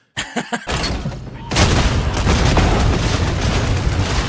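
A few sharp shots from a Warhammer 40k bolter ring out, then a loud, continuous roar of heavy bolter gunfire and booming explosions fills the rest, close and thunderous.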